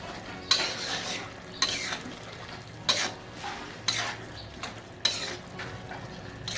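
Chickpea curry with ground peanut powder being stirred in a pot, about five scraping strokes of a spoon at a slow, even pace over a low simmering hiss.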